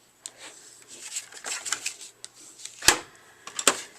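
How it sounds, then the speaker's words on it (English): Card stock being creased along score lines with a bone folder: close papery rubs and scrapes with two sharper snapping folds near the end. "I'm going to use my bone folder here to get nice sharp creases"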